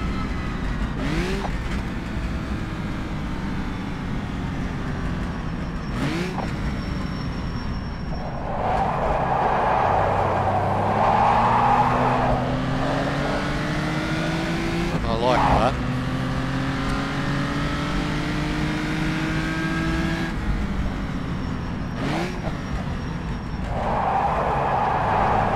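A 1954 Daimler-Benz 300 SL on the Bathurst circuit, its engine droning steadily with rising and falling pitch through gear changes, plus a few sharp bumps and thuds, with a voice talking over it.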